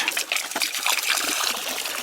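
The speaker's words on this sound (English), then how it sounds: "that hose is now working, but it helps if the water goes into the pond" Water from a garden hose runs into a pond, a steady close splashing trickle and gush that continues without pause for the whole stretch.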